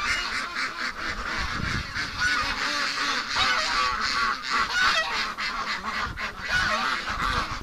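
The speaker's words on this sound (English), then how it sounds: "Oh, look at the duckies waiting." Ducks waiting in a pen by a creek in winter keep up a dense, continuous chorus of honks and quacks, busy and close, with no voices over them.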